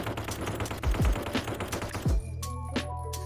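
A rifle in the video game The Light Brigade fires a quick string of loud, close shots until its magazine runs dry. Sharp mechanical clicks and rattles follow in the quieter tail.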